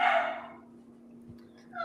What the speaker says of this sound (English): Let me mute this while my dog barks.